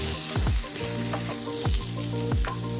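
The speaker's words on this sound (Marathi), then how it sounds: "आपण टोमॅटो टाकणार आहोत हे पुन्हा एकदा व्यवस्थित असं परतवून घ्यायचं आहे" Onion, tomato, ginger, green chili and garlic fry in oil for misal pav, giving a loud, close, continuous sizzle broken by regular stirring strokes that scrape through the pan, with no talking.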